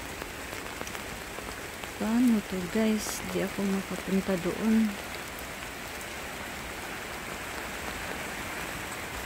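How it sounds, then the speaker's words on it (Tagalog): Heavy rain falls steadily in a garden in the Netherlands, a constant wash of patter under a speaking voice that talks briefly near the start, and then the rain continues alone. "Grabe naman ang ulan dito guys."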